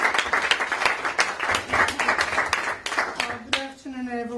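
Applause from an audience at a Turkish Cultural Center meat drive event, sharp claps rising and thinning out, with a voice starting to speak near the end.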